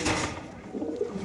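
Pigeons coo at a pigeon market sale, soft low throaty calls close by over a busy background hum.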